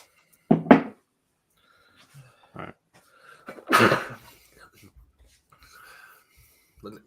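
A single sharp sneeze bursts out near the start of a quiet indoor room, followed by scattered breaths, a cough-like burst and faint murmured speech.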